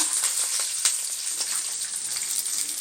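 Peeled garlic cloves and dried red chillies fry on a hot tava, giving a steady close crackling sizzle with scattered pops and no talk.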